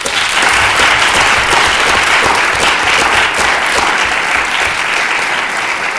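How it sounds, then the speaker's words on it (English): A large audience at an interstate oratory finals applauds the final competitors, steady loud clapping filling the whole stretch with no speech over it. "So let's first clap for them again."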